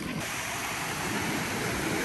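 Rushing water at the lazy river at Aulani resort, a loud steady broadband roar with no break, close and filling the whole span.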